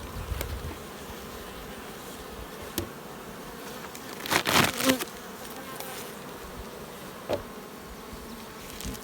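Honey bees buzz steadily around a beehive of queen-rearing nucs. The hum is soft and continuous, with a few louder close passes and a brief swell near the middle.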